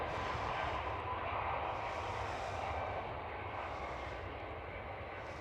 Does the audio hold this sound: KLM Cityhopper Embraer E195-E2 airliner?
yes